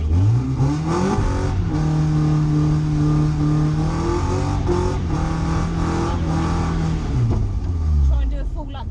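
Car engine revving hard while drifting, its pitch climbing, holding high and then dropping off and rising again. Loud and close, with a voice talking over the engine.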